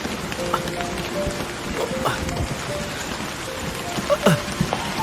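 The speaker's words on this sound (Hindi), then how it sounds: "बारिश हो रही है।" Steady rain falling on surfaces in a Hindi-dubbed romantic film, a continuous close patter with scattered sharper drips and splashes, a faint tonal whine drifting through, and no talk.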